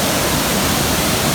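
A waterfall in Jakuchi Gorge, Japan, gives a loud, unbroken roar of rushing water that fills the whole moment without a break.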